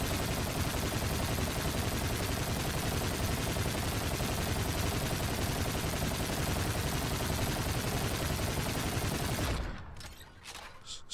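Sustained automatic gunfire from an unsuppressed weapon in the video game Infinite Warfare rattles continuously and loudly for about nine seconds, then cuts off abruptly into near silence.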